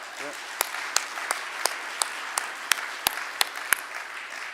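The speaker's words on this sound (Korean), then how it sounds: "우리 안세계 목사님께 참 그 은혜 감사의 화답으로 큰 박수를 부탁드리겠습니다." A church congregation at a lay spiritual retreat applauds after a sermon: a steady bed of many hands clapping, with sharper individual claps standing out at irregular intervals throughout.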